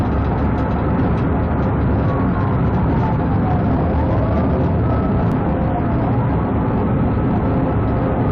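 Police car sirens wailing during a high-speed chase, faint sweeping tones buried under loud, steady road and wind noise from a moving vehicle.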